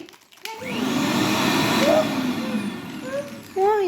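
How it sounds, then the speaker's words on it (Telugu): A household mixer grinder (mixie) runs steadily for a few seconds under test, a loud continuous motor whine with faint voices briefly heard over it. "ఇప్పుడు టెస్ట్ చేస్తున్నా డాడీ నువ్వు చెప్పు మిక్సీ ఎట్లా అరుస్తుంది"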